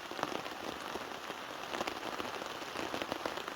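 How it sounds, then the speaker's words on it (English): Heavy rain pounds steadily on a tarp and tent in Galloway Forest, a dense continuous patter with sharper drops spattering through, close and loud with no voices. "The rain is well and truly coming down again."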